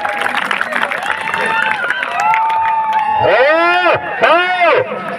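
A crowd at a village wrestling match claps and cheers under a loud announcer's voice, with whistles and whooping rising near the end.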